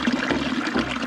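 Water running from an outdoor fountain at a mountain hut, a steady close trickle and splash that continues evenly, with no voices over it.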